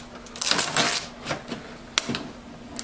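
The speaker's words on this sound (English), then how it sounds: "we'll just start by taking the tape off" Packing tape is peeled in several crackling, sticky bursts from a new HP Deskjet Ink Advantage 2545 printer, close and fairly loud, with short pauses between pulls.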